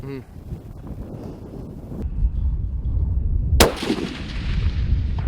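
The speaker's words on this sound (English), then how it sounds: "You need to squeeze that shot off." A single long-range rifle shot on a hunting safari, a sharp loud crack partway through, with steady wind noise before and after.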